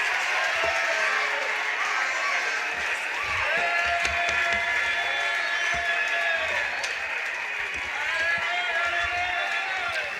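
An audience applauds loudly and steadily for the whole stretch, a dense wash of clapping with sharper claps poking through, while a voice carries over the top.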